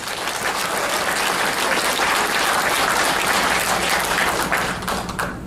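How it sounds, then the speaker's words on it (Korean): Loud, dense crowd applause at a book launch event throughout, a continuous roar of clapping from many hands that tapers slightly at the very end. "여러분 박수 한번 주시기 바랍니다"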